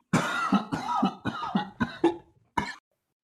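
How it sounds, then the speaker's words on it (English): A rapid series of harsh, raspy coughs, about six in quick succession, close and loud, ending with one last cough after a short pause. "DG coughs while blowing the smoke out of his hood"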